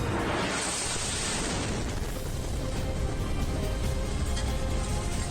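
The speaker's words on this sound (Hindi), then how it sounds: "और अचानक एक जोरदार धमाके का वीडियो भी इस लड़की के मोबाइल में रिकॉर्ड हो जाता है।" A loud, sustained roar of broadband noise fills the whole stretch, like a distant missile explosion in Kyiv and its rumbling aftermath, with no voices.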